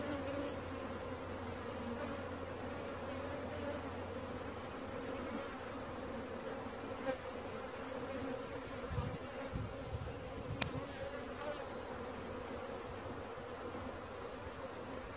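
A honey bee swarm in Middle Tennessee hums as a dense, steady buzz of many insects, constant and fairly faint, with a few nearby knocks and no talking.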